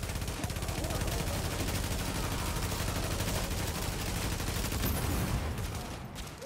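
Dense, continuous gunfire rattles through The Division Underground, with rapid automatic bursts layered into a loud, unbroken wall of shooting that barely lets up.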